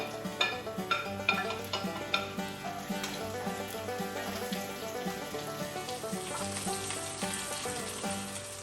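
Mushrooms sauté in a hot pan, a steady bright sizzle with a few sharp clinks and scrapes of stirring near the start, close and continuous with no talking.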